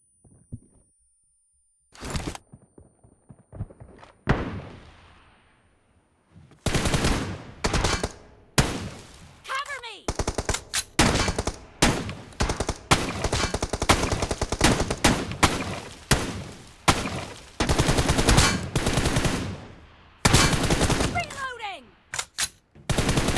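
Dense bursts of gunfire from a Free Fire shooter game, rapid automatic volleys and single shots crackling loud and close, starting sparse and building into near-continuous firing with brief gaps.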